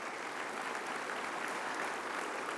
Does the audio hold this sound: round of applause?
yes